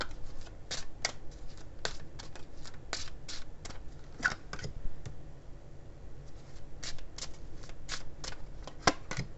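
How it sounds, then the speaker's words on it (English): Lenormand fortune-telling cards are shuffled by hand in quick, crisp riffling bursts with short pauses between them, close and fairly quiet. "I'm going to pull a couple of Lenormand cards here."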